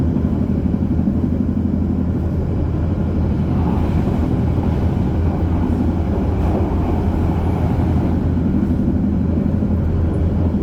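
An economy passenger train, KA Jaka Tingkir, travels between stations in Indonesia, heard from inside as a loud, continuous low rumble and rattle that holds steady throughout with no talking.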